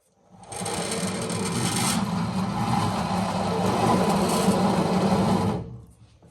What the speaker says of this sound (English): pay attention to how noisy these bearings are